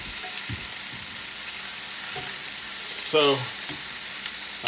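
Honey pork sauce spatters and sizzles in a hot pan, a dense continuous hiss with occasional pops and stirring scrapes, while a voice briefly speaks over it.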